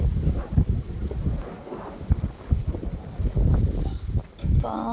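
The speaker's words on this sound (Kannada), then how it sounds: "ಸಖತ್ತು ಗಾಳಿ" Heavy gusts buffet the microphone in uneven rumbling bursts, with a voice briefly heard through the roaring wind.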